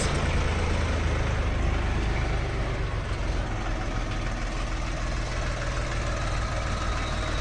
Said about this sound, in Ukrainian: Двигун трьохциліндровий КМ-385.